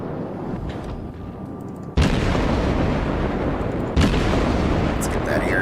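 Heavy naval guns of a Soviet cruiser in World of Warships fire in two loud booming salvos a couple of seconds apart, each followed by a sustained roar, with a voice speaking faintly in the background.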